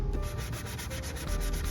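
Steady scraping of the relic finish on a semi-hollow guitar body, a continuous close rasping rub with faint rhythmic strokes, no voices.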